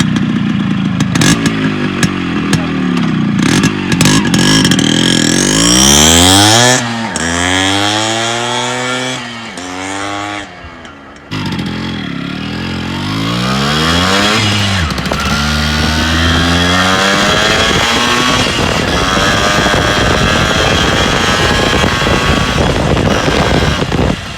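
A Yamaha RX 100 five-speed two-stroke motorcycle, rebuilt from scrap, runs loud and close, revving hard with rising and falling engine pitch through repeated gear changes as it is ridden, with no voices over it.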